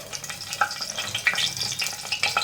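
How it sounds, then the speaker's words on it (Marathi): Bay leaf sizzling in hot ghee for a hotel-style chicken biryani, a crackly, spitting fry with sharp pops and a brief stir, close and fairly loud, with no voices. "इथे आपण तेलामध्ये तेजपत्ता टाकणार आहे"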